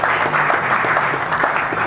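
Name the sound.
audience applause at graduation ceremony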